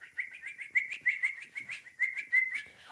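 An 11-year-old boy imitates bird calls with his voice, a rapid series of about a dozen bright, chirping whistled notes in an even rhythm, close and clear with no other sounds.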